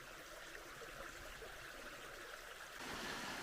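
Creek water rushes steadily over shallow rocky shoals below a forest trail near Nancy Town Falls, a faint, even wash that grows slightly louder and brighter near the end.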